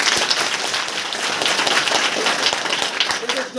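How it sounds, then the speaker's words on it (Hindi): Classroom audience of students claps for a classmate, a steady burst of applause lasting a few seconds with some speech mixed in. "तालियां बजाइए इनको लिए।"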